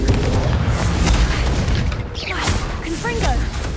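A Confringo explosive spell goes off in Hogwarts Legacy with a close, heavy booming blast. The boom trails into crackling and whooshing debris, and speech is mixed in with the noise.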